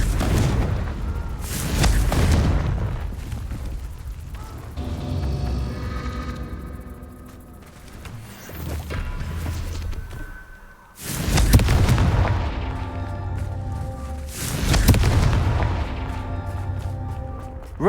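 Heavy booming blasts from Confringo spells in Hogwarts Legacy, several loud explosions with rumbling tails spaced a few seconds apart, layered over a continuous game soundscape.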